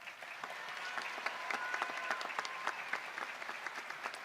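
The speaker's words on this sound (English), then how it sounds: "Let's give these kids another round of applause." Audience at a 2021 high school graduation ceremony claps steadily, a dense crackle of many hands at moderate distance, fairly faint and continuous for several seconds.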